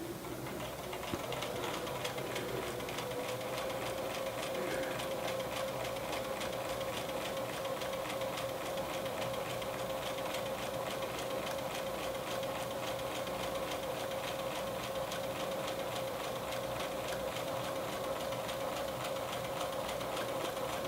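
A sewing machine runs steadily while stitching the side seam of a fabric drawstring bag, a continuous close, even mechanical whir that holds for the whole stretch with no talk over it.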